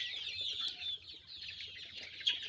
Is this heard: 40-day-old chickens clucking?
yes